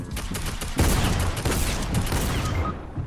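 Heavy shotguns firing in a video game, a string of loud, booming blasts at irregular intervals, close and punchy, fading out toward the end.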